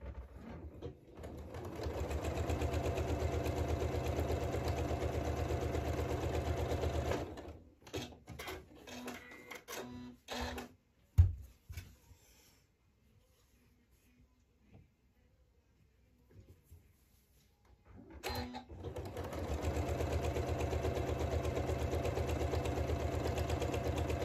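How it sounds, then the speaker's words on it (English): A sewing machine stitches a row of quilt pieces, running in a loud steady burst, pausing for several seconds of near silence and small handling clicks, then starting up again at close range. "I'm going to sew my next row exactly the same way, matching raw edges"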